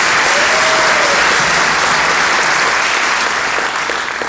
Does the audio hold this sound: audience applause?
yes